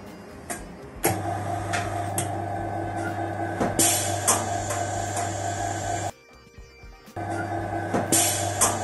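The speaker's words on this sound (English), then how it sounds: "That's the sound of the bottom being sucked from the flask." KELLER vacuum casting system sucking plaster from the bottom of a casting flask, a loud steady mechanical hum with ticking clicks, briefly cutting out then resuming.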